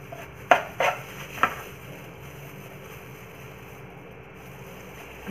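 A knife chops through hard elephant foot yam for a yam and amaranth curry, giving three sharp, close thuds in quick succession early on, followed by quiet room hum.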